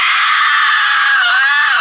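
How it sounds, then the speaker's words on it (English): A singer demonstrates a sustained high-pitched rock scream, loud, raspy and continuous for about two seconds with a slight pitch dip near the end, the voice performing the scream itself. "if you want to learn to make more of those kind of high-pitched rock screams"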